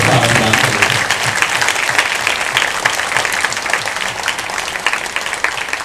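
A crowd at a religious discourse gathering claps steadily and loudly. The applause is a dense, even wash that holds at much the same level throughout without breaking into individual claps.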